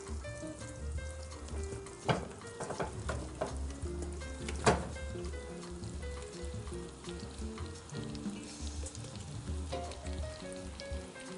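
Onions sizzle in a mix of unsalted butter and olive oil for onion soup. The frying is a loud, continuous crackle with a few sharp pops, close by and heard alone.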